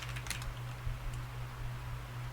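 Fast, light keystrokes on a computer keyboard entering a terminal command, a brief burst of clicks at the start over a constant electrical hum, then mostly hum.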